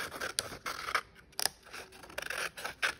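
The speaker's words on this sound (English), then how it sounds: "I'm just going to cut this kind of shape out" Scissors cutting out a paper shape, with close, quiet snips and rasping slides of the blades arriving in short irregular bursts.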